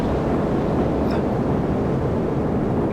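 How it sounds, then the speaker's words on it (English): Rocket engines engaging at launch in Kerbal Space Program, a steady, loud broadband roar that holds evenly throughout without breaks. "We're just engaging our engines."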